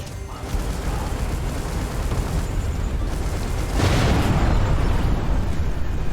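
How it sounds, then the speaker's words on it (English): A massive explosion in the space-combat game Everspace 2 during a firefight, a loud sustained rumbling blast that swells in intensity midway and roars on for several seconds. "Why was there a massive explosion?"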